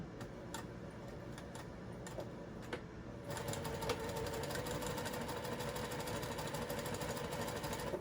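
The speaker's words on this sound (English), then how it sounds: "Sew it to the corner, turn it, go straight up, and this is on a fold, so I'm just going to back stitch on that fold," A sewing machine stitches a cross body bag, running in soft rapid ticks at first, then at about three seconds settling into a steadier, denser whir that holds to the end, fairly faint and with no talking.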